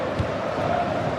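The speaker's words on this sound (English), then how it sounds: "The crowd have really got behind them today." Stadium crowd noise from the football game EA Sports FC 26, during a Portugal versus Argentina World Cup final, a steady broad roar of massed fans with no clear peaks, heard alone at moderate level.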